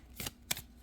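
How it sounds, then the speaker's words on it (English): Two quick riffle shuffles of a brand-new, heavy cardstock oracle deck, each a short crisp burst of flapping card edges, close and fairly quiet, with brief pauses between. "This is how I shuffle. Doing I believe it's called a ripple shuffle"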